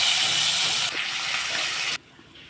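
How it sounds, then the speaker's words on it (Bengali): Small fish frying in hot oil give a loud, close, steady hiss that drops abruptly in level twice, without speech. "প্রথমে আমি মিনি মাছগুলো ভেজে নিচ্ছি।"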